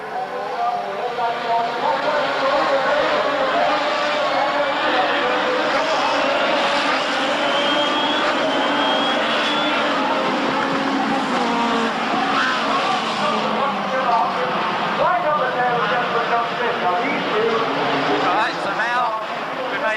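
A Ford Xtrac rallycross car roars at Brands Hatch, heard from inside the cabin as the engine climbs and shifts through the gears at high volume, with a voice talking over it.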